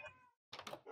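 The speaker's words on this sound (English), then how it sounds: "Meow." A cat meows in the Minecraft video game, giving a couple of short, close, clear calls split by a brief pause, with no talk over them.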